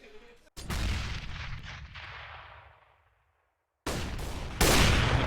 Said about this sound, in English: grenade lands right on Daze for 55